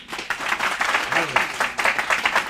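Audience applause at a Hansraj College event in Delhi honouring student volunteers, steady dense clapping through the whole stretch, fairly near and even in loudness.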